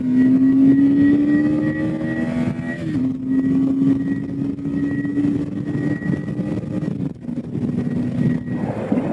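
A KTM 250 Adventure motorcycle's engine drones steadily and loudly up close as the bike accelerates onto a fast road, pitch climbing through gears with a brief dip near three seconds, wind noise running underneath.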